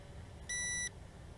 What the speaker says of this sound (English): long beep indicating I'm taking a video